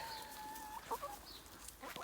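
Hens clucking in a backyard chicken run, a few short soft clucks and calls over a faint, quiet outdoor background.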